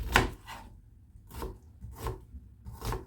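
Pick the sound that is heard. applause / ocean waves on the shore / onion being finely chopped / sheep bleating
onion being finely chopped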